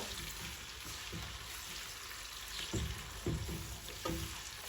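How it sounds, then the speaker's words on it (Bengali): Onion paste sizzles and fries steadily in hot oil for a shahi chicken roast, with a constant crackling hiss and a few soft stirring scrapes. No one speaks. "পেঁয়াজ বাটার কালারটা চেঞ্জ না হওয়া পর্যন্ত তেলের সাথে পেঁয়াজ বাটাটা আমি খুব ভালো করে কষায় নিব।"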